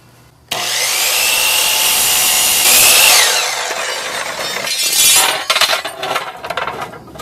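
A saw cuts through pieces of wood nearby. A loud, steady rasping scrape runs for several seconds, then breaks into rougher, choppier strokes as the cut finishes.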